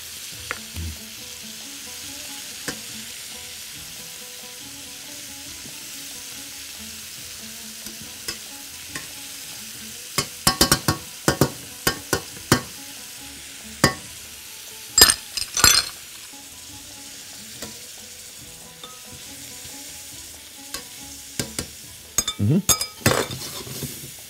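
Onion, celery and garlic sauté with meat in a pan, a soft steady sizzle broken by sharp metallic clinks and scrapes of a spoon against the pot in bursts.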